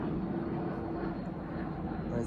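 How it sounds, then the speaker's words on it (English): Airplane passing overhead, a steady distant engine drone with broad rumbling noise, continuous throughout at moderate loudness. "Oh, there, I can see right there was a plane."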